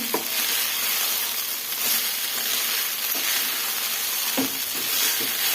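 Dal tadka and jeera rice, restaurant style, stirred in a hot pan: a constant sizzle with scraping spoon strokes and a few sharper knocks against the metal, close up and without voices.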